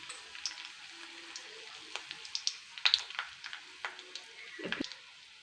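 Chillies dropped into hot oil with black mustard seeds, a faint sparse spitting and popping with scattered sharp crackles and a brief louder scrape near the end.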